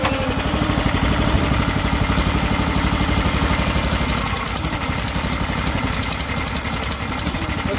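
A log splitter's engine turns over and settles into a steady, loud idle with a rapid chugging pulse, running alone with no talking for about eight seconds.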